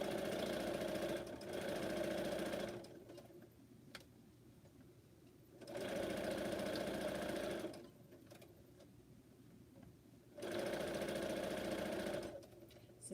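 A domestic sewing machine stitches the top onto a fabric face mask in three bursts of rapid, even chatter, separated by quiet pauses with light handling noises.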